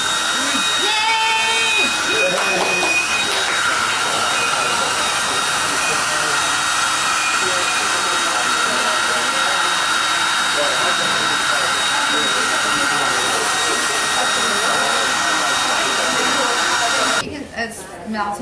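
A steady, loud broadband whoosh of a hair dryer blowing continuously on cannabis suppositories, with faint voices briefly under it near the start and a short interruption at the end.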